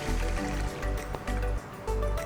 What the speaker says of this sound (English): Now pour in some coconut milk